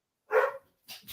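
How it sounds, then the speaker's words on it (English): Dogs bark in the background at a house when someone comes to the door, one sharp muffled bark followed by a couple of fainter, shorter ones with quiet gaps between. "I don't know if you heard my dogs there in the background."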